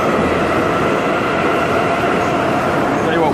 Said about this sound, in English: we'll pick this up off the train. This is really loud.